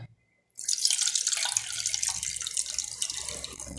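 Fresh water pours into a container of ragi and mustard seeds being washed, a close, steady splashing rush that begins abruptly after a moment of silence and continues without talk.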